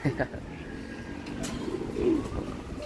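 Pigeons coo softly in a low, repeated rhythm, with faint background noise and a bit of distant activity.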